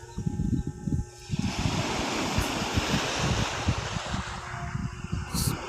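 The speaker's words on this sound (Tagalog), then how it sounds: "Tunog pa lang ang alon ay nakaka-relax na po dito." Sea waves washing ashore at Cabay Beach in the morning, a broad continuous roar of surf with wind buffeting the microphone, steady and close, no voices.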